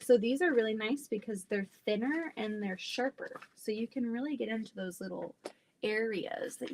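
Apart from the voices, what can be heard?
None of the usual background noises is heard.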